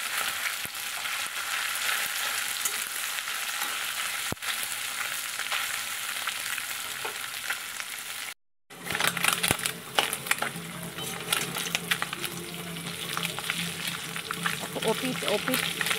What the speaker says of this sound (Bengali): এপিট ওপিট করে আর কি মাছগুলো ভেজে নেব।